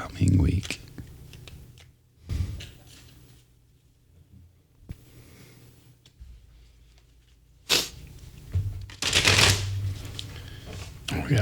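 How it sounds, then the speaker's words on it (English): A full deck of playing cards is riffle shuffled in bursts of crisp, rapid flutters with quieter gaps between, close and fairly loud, with a voice speaking in between. "We got a full shuffle going on here."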